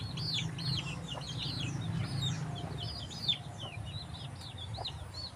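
Chickens and chicks on a farm in Bicol, with repeated high peeping chirps from chicks over soft clucking hens, a steady outdoor chorus at moderate distance with no talking.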